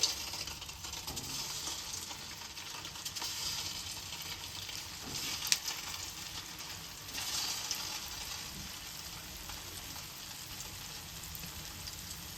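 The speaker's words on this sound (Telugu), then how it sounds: "ఇప్పుడు మనం ఒకటి ఇలాగ వేసుకొని ఫ్రై చేసుకోవాలి వేపుకోవాలి" Semiya boorelu, vermicelli fritters, frying in hot oil on a stove, giving a steady, dense crackling sizzle throughout with a brief louder pop near the middle and no talking.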